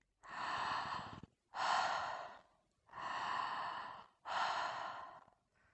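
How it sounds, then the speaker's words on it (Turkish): Fast connected mouth breathing during a breathwork exercise: four long, airy breaths alternating in and out with no pause between them, close and clear, steady rhythm, no talking. "Nefesin karnını dolduracak şekilde ağızdan nefes alarak ve ağızdan nefes vererek"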